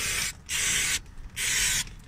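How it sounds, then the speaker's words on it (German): Cleaner sprayed onto the oil-leaking ZF 6HP19 automatic transmission of an Audi A8: two long, close hissing bursts from a spray can, separated by a short pause, with no voices. "Aber ich sprühe es jetzt erstmal hier so komplett ein."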